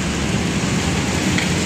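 Heavy rain pours steadily during Typhoon Tino in Manila, a dense, loud and unbroken wash of falling water.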